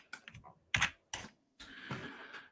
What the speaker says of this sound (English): Oh, I'm making mistakes typing here.